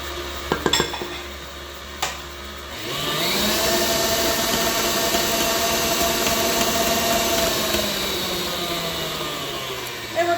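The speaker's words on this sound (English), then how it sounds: "We're just going to get these ones creaming together in our mixer." An electric stand mixer creams brown and white sugar for Kris Kringle cookies, starting after a few clanks at about three seconds and then whirring steadily and loudly, close by and alone, until the end.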